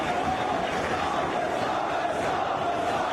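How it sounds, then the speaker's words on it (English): A wrestling crowd at a violent Ring of Honor match roars in a dense, continuous wash of cheering and shouting that holds steady and loud throughout. "And then the crowd goes in for Homicide as"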